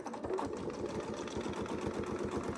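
A sewing machine stitches a circle using a Westalee ruler template, running close up with a rapid, even mechanical chatter from start to finish.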